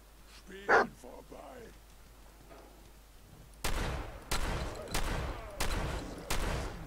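A dog barks sharply once in the Fallout 4 video game, followed by a rapid burst of loud gunfire that repeats in several hard volleys.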